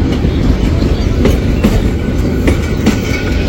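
A train rolls past the Ashinagar railway level crossing near Narsingdi station in Bangladesh. Its carriages clatter in a loud, close, continuous clickety-clack.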